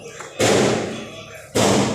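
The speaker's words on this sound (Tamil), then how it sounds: "அதான் வெடி அடிக்கிறாங்க." Firecrackers go off close by in two loud bursts, each a sharp bang followed by a long crackling roar that slowly fades.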